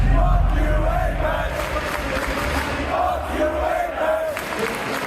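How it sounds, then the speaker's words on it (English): A large North American esports crowd at a Counter-Strike match roars and chants in unison, a dense sustained wall of voices filling an arena, loud throughout. "the NA crowd decided to take matters into their own hands and troll Apex."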